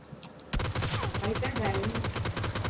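Video game gunfire starts abruptly after a brief quiet moment and continues as a rapid, sustained automatic burst of close, loud shots.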